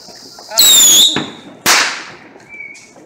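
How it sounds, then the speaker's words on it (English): Fireworks go off outdoors: a shrill whistling rocket climbs, a sharp crack follows, then a second loud bang, and a faint whistle trails at the end, all without talk. "I saw a couple of fireworks over there."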